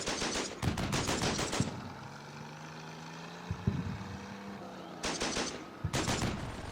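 Bursts of machine-gun fire from the World War II strategy game Combat Mission: Battle for Normandy, two loud rattling volleys separated by a quieter gap with a low engine drone and a couple of isolated shots.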